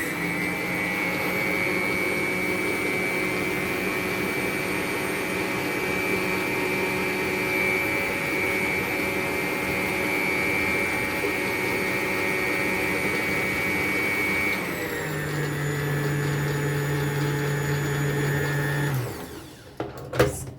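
An electric mixer beats the rest of the flour into batter for an apple crumble cake, a steady loud motor whine that drops to a lower speed near the end before cutting off with a few clunks.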